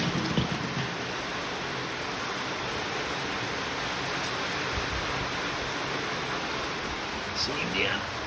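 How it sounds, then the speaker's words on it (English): Heavy rain pounding on a shed roof, a loud, dense, continuous patter heard from inside, with faint sounds of movement near the end. "the rain's pretty loud out here in the shed on the roof."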